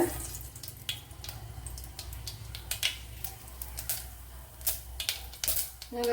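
Mustard seeds crackle and pop in hot oil for a Kerala-style breakfast, with a dense close sizzle and sharp spits that grow louder near the end, and no talk over them.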